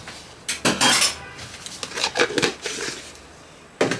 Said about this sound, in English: Just clean off the spoon.